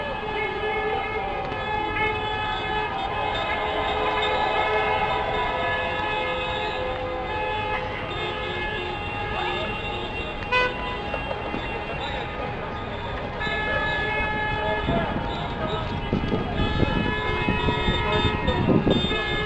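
Car horns honk repeatedly in long sustained toots at a street protest convoy in Paris, layered and continuous over crowd noise, with louder blasts and bustle toward the end.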